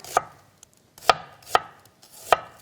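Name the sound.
knife thinly slicing onion on a cutting board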